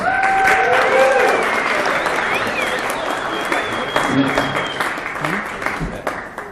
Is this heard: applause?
yes